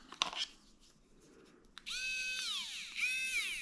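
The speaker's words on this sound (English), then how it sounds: "it's an automated screwdriver" A handheld automated electric screwdriver with a light and a set of 51 bits whirs up to a steady high-pitched motor whine with a brief dip in pitch, after a few small clicks and handling taps.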